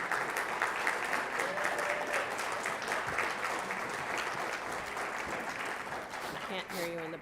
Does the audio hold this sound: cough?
no